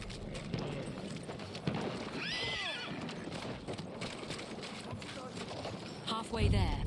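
A horse in the video game Battlefield 1 gives a clear whinny in the middle, with hoof clip-clop and game ambience around it and a thump near the end.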